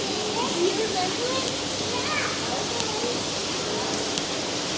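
Indoor waterfall at Chester Zoo, a steady broadband rush of falling water filling the space, with faint voices in the background.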